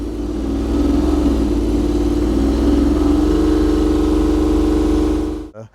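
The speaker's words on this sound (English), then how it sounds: "There you go, that's what the range extender engine sounds like." A BMW i3 range extender engine runs at a steady idle, a low even rumble with a faint rise in pitch partway through, close and alone before cutting off abruptly at the end.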